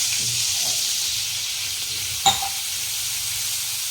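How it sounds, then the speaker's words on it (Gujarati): A glass of water poured into a hot pan of tempered spices and chillies, giving a dense steady hiss and sizzle with a single sharp metallic tap partway through, close and even. "એક ગ્લાસ જેવું પાણી નાખીશું આપણે"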